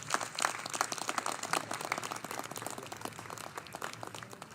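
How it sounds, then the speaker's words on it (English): Round of applause at a college and career center ribbon cutting, many hands clapping in a steady, moderately distant patter that continues evenly and slowly thins, with no talking over it. "give them a round of applause"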